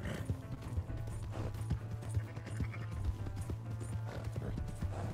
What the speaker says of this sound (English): Horse is getting slow.